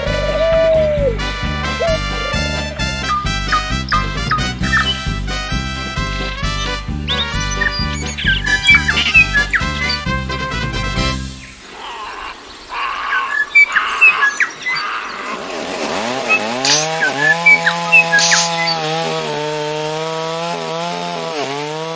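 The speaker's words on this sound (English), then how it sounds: "the many different birds singing their tunes" Birds chirp and tweet amid loud chainsaw buzzing and rhythmic banging from wood carving, the song continuing as a chorus after the engine drops away.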